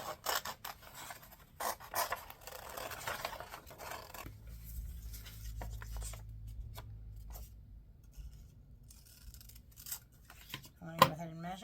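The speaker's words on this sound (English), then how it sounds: "So when I cut it out, I'll just make sure that I cut inside the lines a bit" Scissors snip through paper while cutting out a shape for a festive snowman made from an upcycled book, with soft, quiet crisp cuts early on, then a long hushed stretch with a faint low hum.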